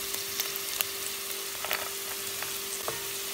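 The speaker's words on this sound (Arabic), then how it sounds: "بقلي البصلة، بس تقلت البصلة بهيدا الشكل شي خفيف." Onion and garlic fry in a pan with a soft, steady sizzle, with occasional small pops and stirring clicks over a low hum.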